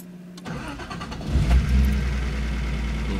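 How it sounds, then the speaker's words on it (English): A Datsun 280ZX with electrical issues is started: the engine cranks briefly, catches with a swelling rev, then settles into a steady, close idle. "Go ahead and turn the car on."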